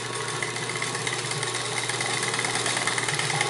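Vintage Singer 78-3 industrial walking foot sewing machine stitching through heavy material, a steady, fairly quiet mechanical whir with a fast rhythmic chatter throughout.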